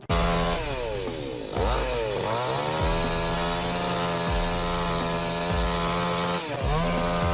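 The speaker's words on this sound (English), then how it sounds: "the cut needs to be a little deeper. I think the chainsaw will tell you." A chainsaw cuts into a tree, its loud engine revving and dipping repeatedly as the chain bites into the wood, close and continuous with no talk.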